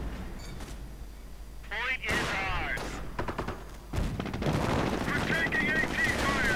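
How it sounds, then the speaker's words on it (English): Heavy .50 caliber machine gun fire in a World War II strategy game, bursts of gunfire mixed with explosions and battle noise, with a voice talking over the top. "Pioneers on the run, getting blasted with the 50 caliber and dead."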